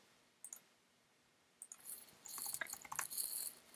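Quiet mouse clicks on a computer while submitting a Google Form, a few sharp isolated clicks followed by a denser patch of light clicking and tapping, close and soft with no talk.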